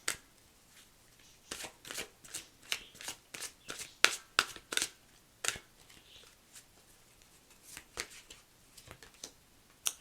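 Tarot cards are shuffled by hand in a quiet room, with repeated crisp riffling bursts and soft flicks in an irregular rhythm, close and fairly soft.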